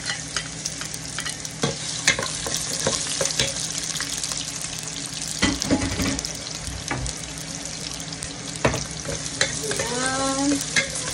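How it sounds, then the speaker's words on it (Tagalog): Sliced onions and garlic sauté in a pan for chicken lomi, giving a steady close sizzle broken by frequent scraping stir strokes, with a brief higher clatter near the end. "Kaya na natin lumabas ang aroma ng ating mga sibuyas at bawang."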